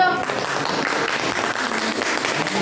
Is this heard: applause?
yes